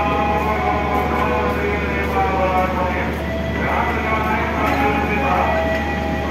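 A Kahuripan passenger train at an Indonesian station, its steady loud rumble filling the whole stretch, with a voice speaking over it.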